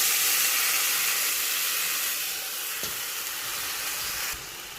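Hot pan of fried drumsticks with water just added, a strong steady hiss and sizzle that slowly eases, close up, with a couple of faint clicks and no talking.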